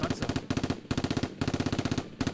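A machine gun fires a sustained burst in the video game Conflict of Heroes: rapid, evenly spaced loud shots in three or four strings with brief gaps between them, close and dry with no voice over them.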